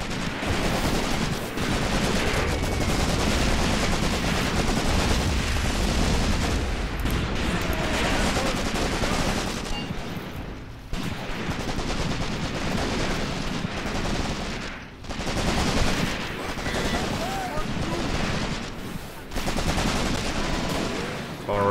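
Sustained heavy gunfire in Graviteam Tactics: Mius-Front: rapid machine-gun bursts and rifle shots overlap in a dense, nearly unbroken fusillade, loud and close, with brief lulls and occasional voices underneath.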